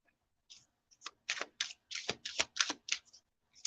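Tarot cards shuffled by hand, a quick run of close, crisp riffling snaps and flutters in uneven bursts.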